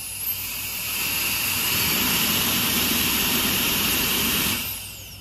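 A Synric Turbo Duster runs at a high, whining roar like a tiny jet. It spools up, holds steady and loud for several seconds, then winds down near the end.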